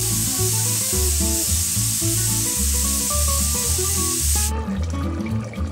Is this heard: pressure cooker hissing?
yes